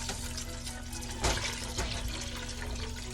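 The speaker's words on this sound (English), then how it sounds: "now I can add the rest of this broth here" Broth is poured into a pot of sauerkraut soup, giving a soft, continuous liquid splashing with one brief louder slosh near the middle, fairly quiet and with no voices over it.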